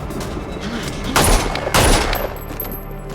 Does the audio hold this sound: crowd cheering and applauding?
no